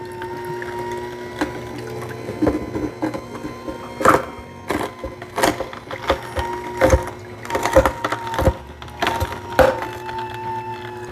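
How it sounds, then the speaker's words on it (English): A Ninja NeverClog cold press juicer grinds hard carrot pieces: a steady low motor hum runs throughout while irregular sharp cracks and crunches break out, louder and more frequent toward the end, close by and without speech. "how well the Ninja NeverClog cold press juicer grinds up those hard carrot pieces"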